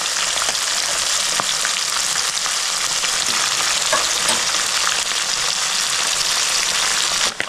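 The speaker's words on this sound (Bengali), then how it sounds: "মাছটা পুরো লাল লাল করে ভেজে নেব" Mourola fish sizzles in hot oil, a steady, dense frying hiss that runs unbroken and fairly loud from start to finish, with no voices.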